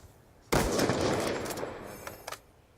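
Gunfire in Call of Duty Black Ops 2 during a Ballista sniper match erupts in a sudden loud burst that rings out and decays, with a couple of smaller shot-like pops near the end.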